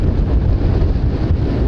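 Wind gusts around a sailboat riding at anchor off Tonga, a steady, close rumbling roar buffeting the microphone throughout with no let-up.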